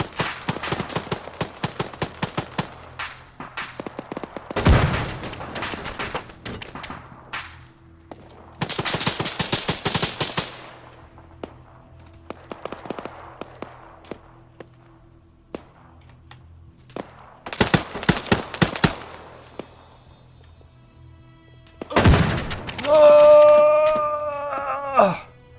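Bursts of automatic gunfire from hip firing in the ARMA 3 military shooter, several loud rapid volleys separated by quieter gaps, ending with a ringing, wailing tone.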